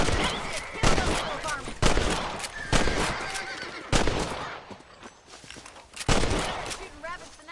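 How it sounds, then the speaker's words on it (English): Gunshots in a western video game during a rabbit hunt, several sharp loud reports spaced about a second apart, with horse whinnies and game speech mixed in. "Shooting rabbits and outlaws, I see."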